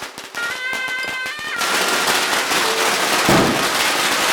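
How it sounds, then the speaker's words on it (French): Strings of firecrackers crackle in rapid, dense bursts at a Miao and Dong village ritual, starting as sharp separated pops and merging into a loud continuous roar of explosions. "Les pétards, qui marquent chaque étape, sont chargés de tenir à l'écart les esprits malfaisants."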